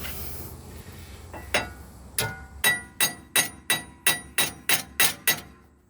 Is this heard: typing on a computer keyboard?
no